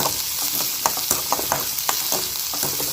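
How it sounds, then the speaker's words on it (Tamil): Onion, garlic and chilli sautéing in a pan, a dense continuous sizzle close up, broken by repeated sharp scrapes and taps of a stirring spoon. "வெங்காயமும் பூண்டு மிளகாய் எல்லாம் நல்லா வதங்கிட்டு."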